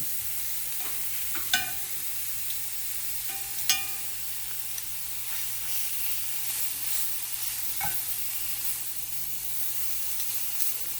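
Three chicken pieces frying in an oil-coated pan, a steady hissing sizzle throughout with a few distinct clunks and taps as the pieces are placed or moved, no talking.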